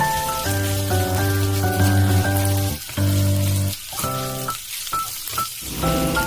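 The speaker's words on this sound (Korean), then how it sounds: "약불로 줄여 고춧가루 5스푼을 넣어 볶아주세요" Beef and green onion stir-fry with chili powder in a pot over low heat, a close, steady crackling sizzle running under louder background music with shifting tones.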